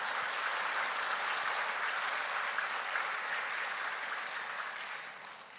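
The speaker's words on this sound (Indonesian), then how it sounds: "kali ini kita berikan tepuk tangan untuk seluruh rekan-rekan buruh" A large crowd of labour union workers and guests at a fast-breaking gathering with the national police chief breaks into dense, steady applause that holds evenly and then slowly fades toward the end.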